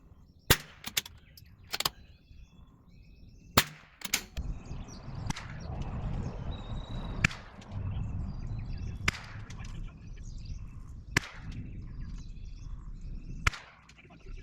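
Sharp, separate rifle reports from a Bergara B14R .22 firing Eley ammunition at targets, about eight or nine cracks spaced irregularly, with a quiet outdoor background between them.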